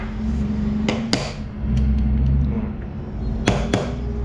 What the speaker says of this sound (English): tap all these screws